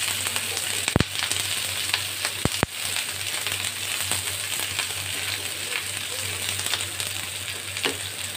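Mushrooms sizzle and fry steadily in a hot pan for a chili mushroom dish, a continuous close crackle with a few sharp clicks of stirring.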